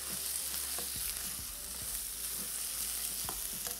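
Chicken cooking in a kadhai, a steady soft sizzle and frying hiss with occasional light stirring clicks, heard alone at low volume.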